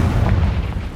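Confringo explosive spell blast going off in Hogwarts Legacy, a loud, dense low boom sustained across the whole second with rumbling debris, no voices.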